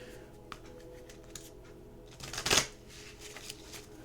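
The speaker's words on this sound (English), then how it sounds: "we're going to pull out an oracle deck here, a Talisman Oracle deck, one of my newest decks. And we're going to shuffle it up a little bit" A Talisman Oracle card deck is shuffled by hand, with soft riffling flicks and a brief louder burst of cards snapping together, close and quiet with no talk.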